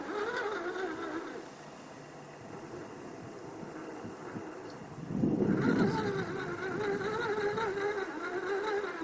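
An RGT Crusher RC crawler's small motor hums at slow crawl with a steady tonal whine, rising and growing louder partway through, under gusts of wind noise outdoors.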